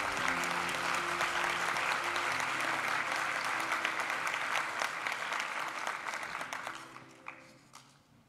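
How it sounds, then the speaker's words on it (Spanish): Applause from an audience at a university graduation ceremony honouring medical law specialists, sustained clapping from a large crowd in a hall that fades out toward the end. "A este grupo de especialistas en Derecho Médico, brindémosles un aplauso."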